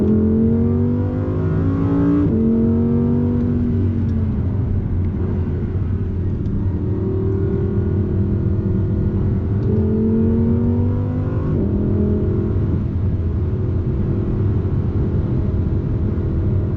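An Audi R8 RWS race car drives hard on a wet race track, its engine a loud, continuous onboard rumble that rises and falls through gear changes.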